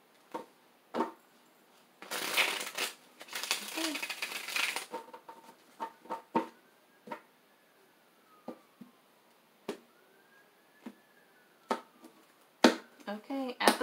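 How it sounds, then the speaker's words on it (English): A burst of riffle-shuffling tarot cards lasting a couple of seconds, followed by scattered soft taps and card snaps between quiet speech. "All right, one more shuffle."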